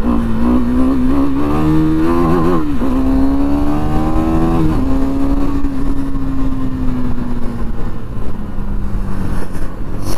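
KTM motorcycles set off at the start of a group ride, engines revving and rising in pitch as they pull away, then settling into a steady drone, loud and continuous with no talk.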